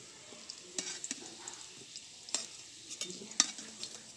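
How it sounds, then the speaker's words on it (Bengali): Potato pieces fry in hot oil as they are stirred and lifted out, a soft steady sizzle broken by several sharp scraping clicks of a utensil against the pan. "আলুগুলোকে আমি লাল লাল করে ভেজে নিয়েছি। এবার আমি আলুগুলোকে তুলে নেব।"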